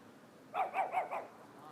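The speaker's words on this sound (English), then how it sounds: "Neighborhood dog, he didn't like me talking." A neighbourhood dog barks four times in quick, even succession, distant and fairly faint, with no speech over the barks.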